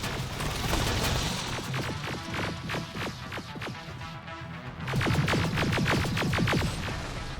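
Sustained automatic gunfire in Terminator: Resistance: rapid bursts of loud, close shots over a dense rumbling battle din. The firing eases briefly, then resumes in fast clustered volleys.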